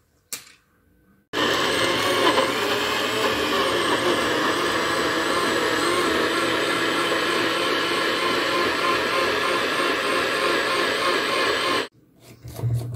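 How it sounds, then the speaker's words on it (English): Kitchen blender whirring a fruit drink, a steady loud motor roar running for about ten seconds before cutting off abruptly, with brief handling noise at either end and no talk. "znači blender ide ovaj što ima ovako ovo. I izblendamo i to je to."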